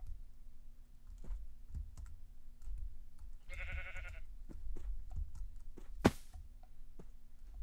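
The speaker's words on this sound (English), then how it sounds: "Was that a freaking sheep literally climbing the freaking tree?" A sheep in the Minecraft video game gives one short, buzzy bleat in the middle, surrounded by steady computer keyboard typing and mouse clicks. Game effects sound quietly in the background.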